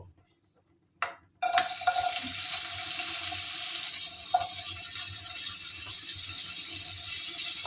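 Dried shutki fish frying in a pan after a brief quiet start, giving a steady, close, broadband sizzle with faint clinks from utensils throughout.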